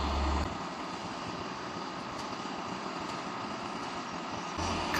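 A girder lifting machine and a transporter vehicle that carries 800-ton high-speed railway box girders start up, giving a steady, droning engine roar that holds nearly constant with a heavier low rumble at the start and end.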